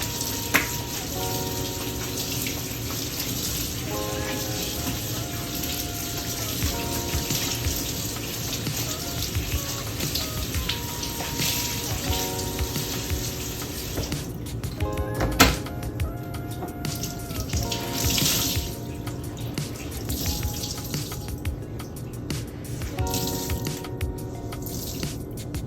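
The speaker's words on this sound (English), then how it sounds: "Let me rinse it." Running tap water splashes steadily as a bleached Forever 21 dress is rinsed under a faucet after reverse tie-dyeing, a continuous close, moderately loud stream with a few sharper splashes and no talking.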